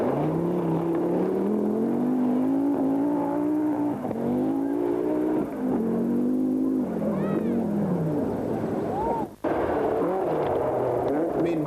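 A four-wheel drive rally car, a 1984 Scottish Rally entry, drives through the Ladywell stage in the hills around Dunkeld, its engine droning and revving through gear changes, loud and sustained with rising and falling pitch.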